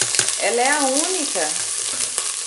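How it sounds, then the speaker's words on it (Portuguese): Garlic browns in oil in a Philips Walita electric pressure cooker, giving a steady loud sizzle throughout while someone talks over it. "Então eu vou agora dourar o alho."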